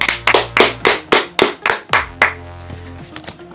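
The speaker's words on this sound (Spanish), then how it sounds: "Un aplauso para L." Sharp, close handclaps ring out in a quick, even rhythm of about eight loud strikes, then thin into a few softer, scattered claps as the applause dies away; no one speaks.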